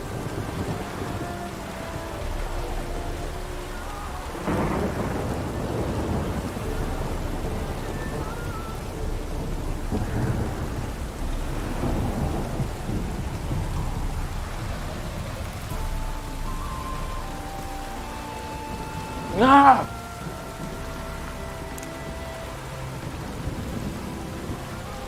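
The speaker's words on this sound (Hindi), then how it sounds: "और बारिश हो रहा है" Steady rain patters in Witcher 3: Wild Hunt, with low rolling thunder throughout and a sharper, louder crack near the end, an even stormy wash with no speech.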